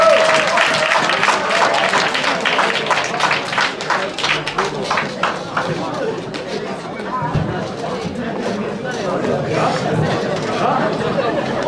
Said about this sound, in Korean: 말씀 전해주신 목사님 크게 박수로 만나도록 하겠습니다